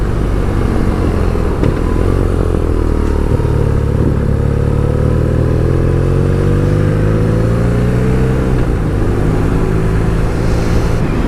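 A BMW R nineT motorcycle engine runs loud and close, its pitch rising and falling through repeated gear changes as it accelerates, with wind noise throughout.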